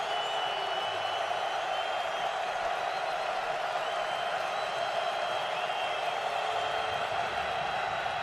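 Dense, roaring stadium crowd at an NFL game between the Bengals and Patriots, a continuous loud wash of cheering that holds steady throughout.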